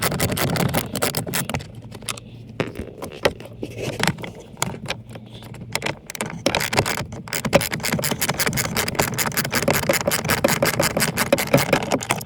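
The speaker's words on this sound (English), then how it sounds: "Then we're gonna have to remove these 3 screws. I'm using a 5/16 socket." A 5/16 socket on a ratchet removes the blower motor screws on a 2011 Toyota Sienna, producing close, rapid clicking and scraping that grows denser and more continuous toward the end, with no speech.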